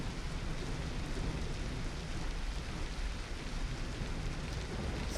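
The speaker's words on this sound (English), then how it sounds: "when there's a storm going on." Heavy, steady rain pours without a break through a thunderstorm in the video game Beasts of Bermuda, a dense, constant roar that stays close and loud with no voices.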